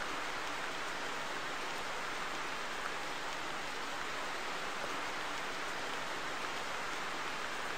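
Steady rain in theHunter, a hunting video game, falling evenly as a dense hiss of raindrops with no breaks, at moderate volume and without speech.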